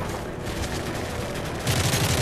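Sustained gunfire in the Call of Duty: Modern Warfare 3 video game, a dense, loud, continuous stream of shots that swells louder near the end.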